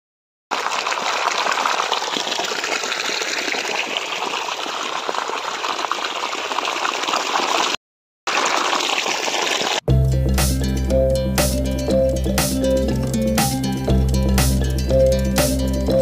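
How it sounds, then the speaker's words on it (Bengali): Water is poured outdoors in a village field to wet a toothbrush: a steady, close gushing splash runs for about eight seconds, breaks off briefly, resumes, then music takes over for the rest. "তো এখানে একটু জল নিয়ে একটু লাগিয়ে নিই ব্রাশটা"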